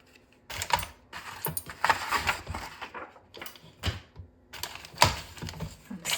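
A Fiskars paper trimmer with a metal guide bar cuts through paper, giving a series of short, crisp slicing and clacking strokes separated by pauses, close and fairly loud.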